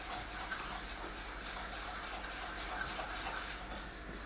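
Water pours steadily into fish pakora batter in a kitchen, a continuous close hiss and splash that fades near the end.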